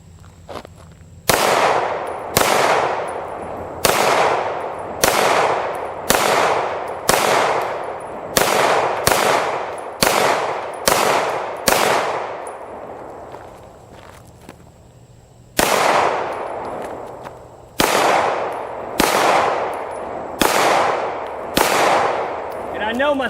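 Pistol shots from a magazine of mixed ammunition fired outdoors, about fifteen sharp reports in uneven bursts with a brief pause partway through, each crack loud and close with a ringing decay.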